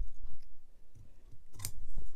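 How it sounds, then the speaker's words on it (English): Scissors snip into fabric during the sewing of a laptop bag: a few soft, close cutting clicks, ending in one crisp, louder snip, with no talking. "go ahead and make a snip mark here."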